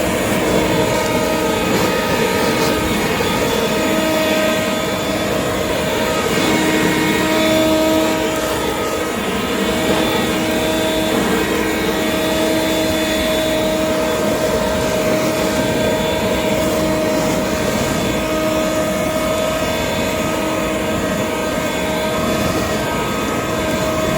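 A leaf blower with a turbo boost roars steadily and loudly throughout, blowing debris out of backyard flower beds, with its whining motor tone holding at an even pitch the whole time.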